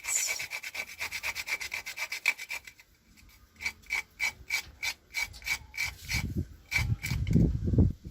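Whole nutmeg rasped against a grater while making homemade chocolate: a quick run of rhythmic scraping strokes, pausing briefly, then a second series of evenly spaced rasps, close and fairly quiet, with no talking.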